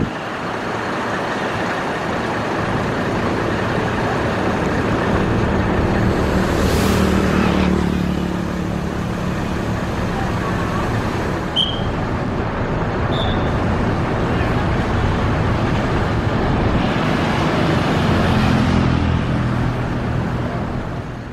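Traffic on the Ngawi–Solo highway at night, a continuous roadway roar with vehicles and night buses passing close by, swelling and fading as they go, and a couple of brief faint horn-like chirps.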